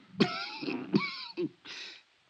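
Three or four raspy, throaty coughs close by, each a rough voiced burst with short pauses between them.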